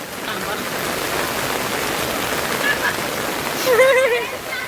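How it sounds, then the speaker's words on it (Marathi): Steady, dense rain hisses loudly and evenly throughout, with a faint voice rising briefly near the end. "एवढे डेंजर पावसात ते भिजत भिजत गेले"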